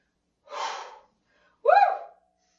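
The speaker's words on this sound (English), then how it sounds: "Big deep breaths" Two big deep breaths during an abdominal exercise, a breathy inhale followed by a voiced, gasping exhale, close and clear with silence around them.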